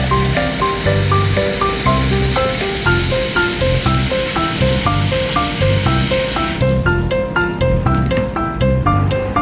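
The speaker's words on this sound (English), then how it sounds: "Let's boil herbal soup." Herbal soup simmers with a continuous loud hiss of steam, along with a rapid, regular ticking rattle, probably from a lid or pot, that continues throughout.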